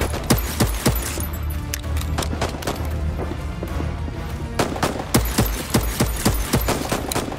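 Rapid bursts of enemy gunfire in the video game Voidtrain, loud and close, with a dense volley early on, a quieter stretch, then sharp separate shots near the end.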